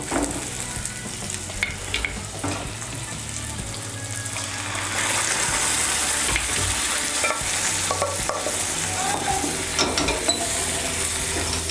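Slit green chillies tossed into fried onions in a pan for masoor dal, stirred with a steady scraping of the spatula over a continuous sizzle, close and fairly loud, with no talking.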